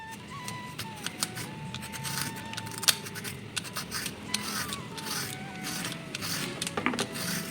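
A knife or scraper rasping the ridged skin off a bitter gourd, close and steady scratchy strokes with sharp clicks, repeated throughout.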